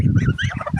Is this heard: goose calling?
yes